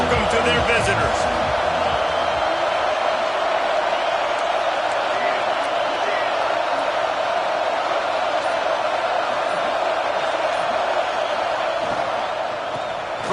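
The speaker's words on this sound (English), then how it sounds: "This crowd bringing an ear-splitting welcome to their visitors." A packed stadium crowd at a Michigan at Texas college football game roars continuously and loudly, a dense wall of cheering that holds steady throughout while a commentator talks over it.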